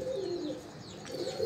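Soft cooing of a breeding pair of Teddy pigeons, a low throaty warble repeating over a faint background hum, close by.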